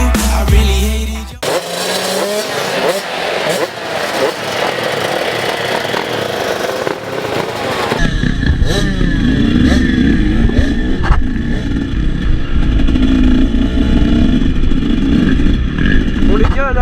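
A 125cc motorcycle is ridden and revved hard, its engine loud and close, running continuously with rising and falling throttle bursts throughout.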